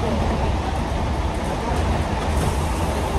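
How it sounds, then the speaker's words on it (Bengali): A local train in Bengal rumbles along steadily, a dense, loud, continuous roar of wheels and carriage noise close around the listener with no breaks. "লোকাল ট্রেনে উঠে পড়েছি"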